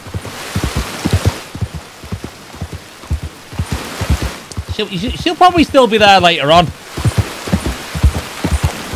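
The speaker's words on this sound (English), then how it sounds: "look at this glorious rain" Steady rain falls in Red Dead Redemption, a broad hiss of thick drops running under close male speech and a brief sung or voiced passage.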